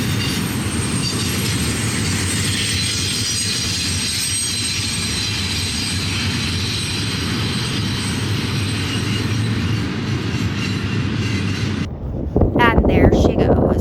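A train rolls steadily past in Kingman, Arizona, a loud continuous rumble with faint wheel squeal lasting about twelve seconds before cutting off, followed by a brief burst of closer noise.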